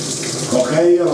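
Water running steadily from a tap at a comfortable temperature, used for bathing a pet lovebird, close and fairly loud with a continuous gushing splash throughout.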